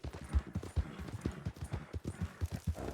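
Horse hooves clip-clop at a steady walking rhythm in the video game RedM on a WildRP roleplay server, a close, regular series of soft thuds lasting a few seconds.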